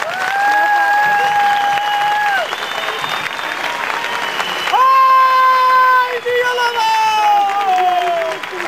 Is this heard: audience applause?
yes